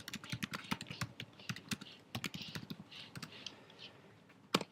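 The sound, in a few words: typing a question on a computer keyboard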